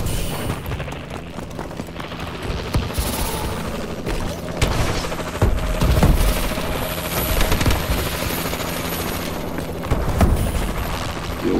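A Warbird aircraft in Call of Duty: Advanced Warfare multiplayer makes a loud, continuous engine and rotor roar, broken by bursts of gunfire and booming blasts.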